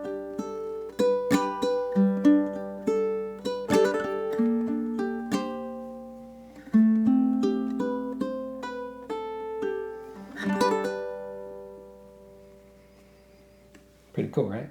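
A fingerpicked ukulele plays the closing bars of a dreamy melody, with plucked single notes and chords ringing out and decaying, then a final strum after a short pause, up close with no voices.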